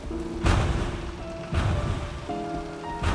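Cannon fire from warship frigates: three deep, heavy booms land about a second apart, each with a rolling tail, over a sustained tonal music bed.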